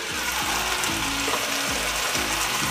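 Saltfish and seasoning frying in a pan for ackee and saltfish, a steady close sizzle with soft stirring scrapes throughout.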